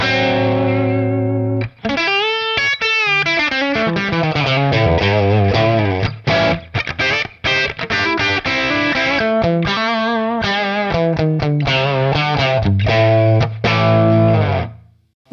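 Electric guitar roaring through a Marshall Studio Classic amp with every knob turned fully up, low sensitivity input, thick saturated distortion with sustained chords and riffs, loud and continuous with brief gaps, no talking.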